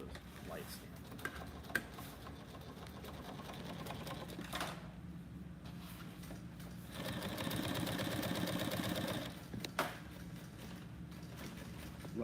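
Sewing machine running in bursts while stitching a line along a zipper, its rapid mechanical whirring rising loudest in the middle, with a person talking at times around it.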